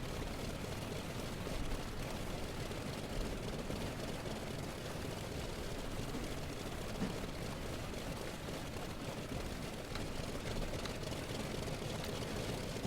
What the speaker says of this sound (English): I like that kind of like that sputtery poof poof poof poof sound of the engine